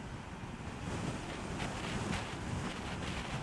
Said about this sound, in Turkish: Rüzgar da var baya.